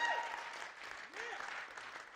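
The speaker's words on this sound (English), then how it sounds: "Yeah, you can clap for that." Church congregation applauding during a sermon, a steady wash of clapping from a crowd that holds for a couple of seconds at moderate volume.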